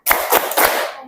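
A classroom group clapping in rhythm for a math ice-breaker, three quick bursts of many hands clapping together, close and fairly loud.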